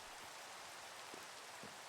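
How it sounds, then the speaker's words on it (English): Rain falls steadily in the video game Minecraft, a soft, even hiss of drops heard faintly and alone with no talking. "I do believe that was possibly the longest amount of rain I've ever experienced in Minecraft"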